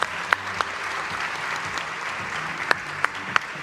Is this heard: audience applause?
yes